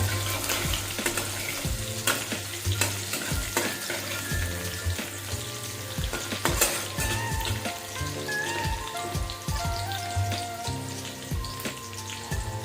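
Cabbage sautéing in a pan crackles and spits in a dense, continuous sizzle, with frequent sharp taps and scrapes of stirring and faint tonal kitchen hum in the background.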